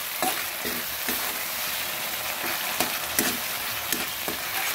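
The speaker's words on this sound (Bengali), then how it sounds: "এবার পেঁয়াজটা ভালো করে ভেজে নেব।" A large chopped onion frying in a pan, a constant close sizzle broken by repeated scraping knocks of a spatula stirring it at irregular intervals.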